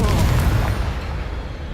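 Confringo explosion spell from the video game Hogwarts Legacy, one loud booming blast up front whose rumble decays over a second or so.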